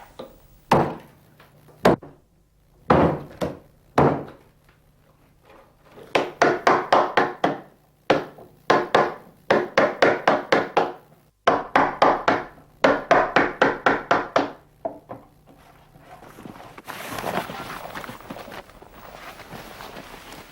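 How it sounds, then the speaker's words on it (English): A gouge struck with a mallet hollows out wood for a harp body, a series of sharp knocks in irregular clusters, close and moderately loud, then a softer scraping stretch near the end. "he begins the rough hollowing with a small adze, and will finish this stage of the job with a gouge and mallet."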